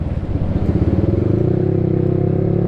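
A motorcycle engine chugs close by in a traffic jam, a loud rhythmic throbbing that settles into a steady idle, with other vehicles in the background.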